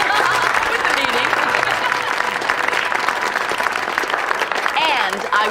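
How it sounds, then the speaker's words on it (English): An audience at an evening dinner event applauds loudly and continuously, a dense wash of clapping with some voices and murmurs mixed in throughout. "I think we owe a round of applause to our master chef of the evening, Mr. Andrew Browning, for that fabulous meal"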